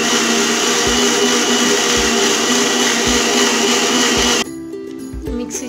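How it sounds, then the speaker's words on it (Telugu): A mixer grinder whirs loudly and steadily while blending banana, milk and ice cubes for a milkshake, then cuts off near the end, leaving a few faint clinks and handling sounds. "మిక్సీ చేసుకున్నాం కదా"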